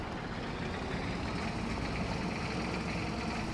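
A vehicle engine runs in Farming Simulator 22, heard from a seat right next to the engine. The loud, steady rumble fills the whole stretch with no break and no voices.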